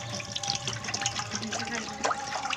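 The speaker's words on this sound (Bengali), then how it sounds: "এবারে ঠান্ডা জল দিয়ে দেব।" Cold water pours into a lemon sherbet made with sugar and lime juice, a close, steady splashing gush with bubbly trickles lasting a couple of seconds.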